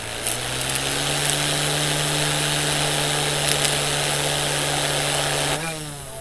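A Goosky S2 Legend RC helicopter holds a loud, steady high-pitched whine with rotor buzz outdoors at close range, then its pitch shifts and the sound starts to drop near the end, with no voices over it.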